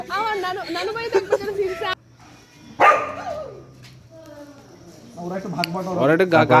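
Dogs at a railway station in Sreemangal, Sylhet, yipping and whining in bursts close by, with people chattering around them.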